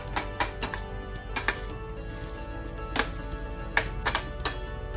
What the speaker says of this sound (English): I'm going to mash up any of the big lumps here.